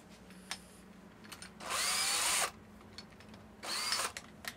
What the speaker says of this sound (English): you have to countersink these a bit to be able to get your nuts on the end